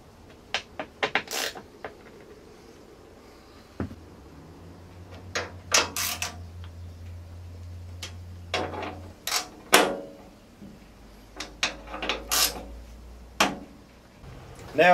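Tightening bolts on a Dragonfire UTV door brings sharp metallic clicks and ratchet-like bursts, with a low steady hum underneath and intermittent clunks of parts being handled nearby.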